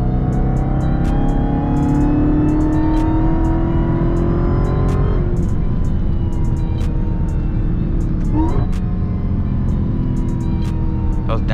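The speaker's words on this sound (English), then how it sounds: "Those downshifts be sounding crazy" A Dodge Durango SRT Hellcat engine drones loud and close from inside the cabin, with falling and rising pitch sweeps as it downshifts and revs, a voice speaking over it.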